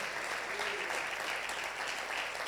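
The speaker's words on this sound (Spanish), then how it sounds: "Dale ese aplauso al Señor." A church congregation applauds during a Sunday service, a steady wash of many hands clapping heard softly from a distance throughout.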